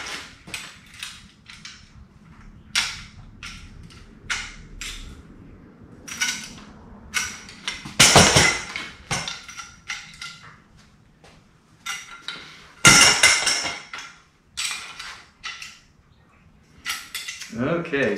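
The tool from a Costco Trinity wire rack shelving kit clicks and ratchets repeatedly as the shelving poles are tightened, with sharp metallic taps and a couple of louder clanks, close up and without talking.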